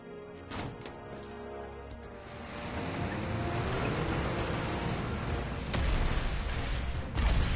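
Explosion in a Gundam anime battle scene: a loud, sustained roar of blasts and crashing debris that builds and stays dense, with sharper bursts near the end.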